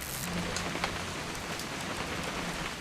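Steady rain patters evenly on a surface in the video game What Remains of Edith Finch, a soft, constant hiss with scattered drops and no voices.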